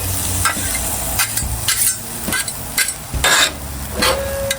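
Shrimp for tacos sizzling in a hot pan: a steady, fairly loud frying hiss with repeated scraping and tapping as the pieces are moved and flipped, roughly six strokes spread through the stretch.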